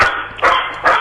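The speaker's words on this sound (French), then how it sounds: "faites taire le chien derrière pour qu'on puisse entendre quand même" A dog barks in the background of a phone call, giving two or three muffled, fairly close barks over a line hiss.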